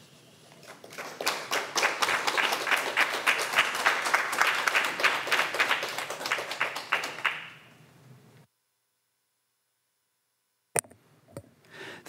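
Audience applause after a poetry and dance performance, a dense burst of many hands clapping for about seven seconds that fades out, followed by silence and a few faint scattered taps.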